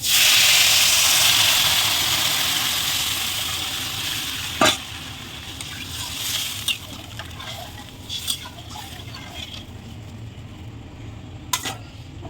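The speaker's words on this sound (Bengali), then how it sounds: "এখন এই যে জল নিয়েছি জলটা আমি ঢেলে দেবো দেখুন" Moong dal fried with chui and green chilies gets water poured in, setting off a loud burst of sizzling that gradually fades to a steadier hiss, with scattered clinks of stirring.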